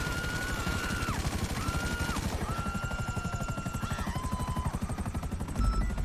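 A helicopter in GTA V whirs with a loud, fast, steady rotor chop right up close. A high whine rises and falls over it.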